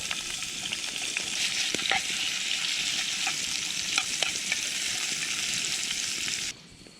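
Potatoes, peppers, onions and bacon fry in a pan with a steady, close hiss and crackle, occasional stirring clicks, and a sudden stop at the end.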